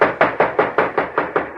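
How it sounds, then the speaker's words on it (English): Eight sharp, evenly spaced knocks on a train's mail car door, firm knuckle raps close by with no talk over them. "Now, knock."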